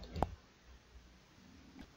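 A single sharp computer mouse click lands early in a quiet stretch, with faint low room noise after it, during setup of the BlueStacks Android emulator on Windows.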